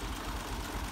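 A tractor engine runs steadily while driving a chaff cutter through a shaft, giving a low, even mechanical drone that sounds fairly distant and faint, with no talking.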